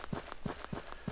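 Character footsteps in an Unreal Engine 4 game, four quick evenly spaced running steps with soft thuds, quiet and close, no voices.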